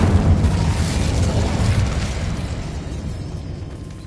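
A fire spell cast in the Hogwarts Legacy video game erupts in a loud, rumbling whoosh of flames that fills the whole moment, then slowly eases off.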